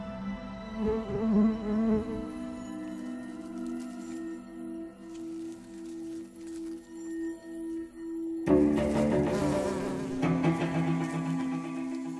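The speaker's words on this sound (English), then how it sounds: "Warm surfaces attract insects." Insects buzz steadily and fairly close around warm surfaces of a housing estate on a hot summer afternoon, a layered drone of flies and bees that swells noticeably louder and denser in the final few seconds.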